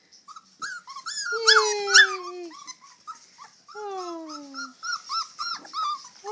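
Several young puppies whimper and whine in rising and falling yips with bits of growling, close by and varied in pitch, while a person briefly exclaims.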